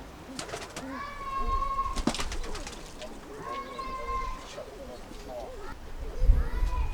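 Pigeons coo repeatedly inside a loft, with several clear rolling calls close by, while someone talks over them and faint shuffling and knocks sound in the background.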